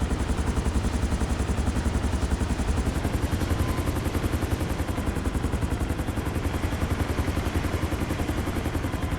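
A helicopter flies over Mount Chiliad in GTA 5, its rotor chopping in a fast, steady, loud rhythm that holds unbroken throughout with no other sounds over it.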